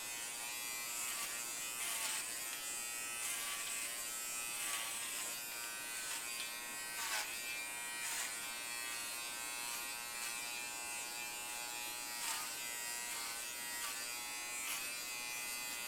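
A JT Cosmo beard trimmer buzzes steadily as it trims a beard, with its pitch shifting slightly as it moves across the chin and underneath.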